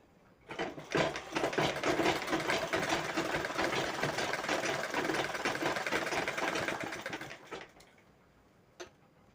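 A sewing machine stitches a blouse lining in one steady, continuous run of rapid whirring and clattering that lasts several seconds, then stops, followed by a single faint click with no talking.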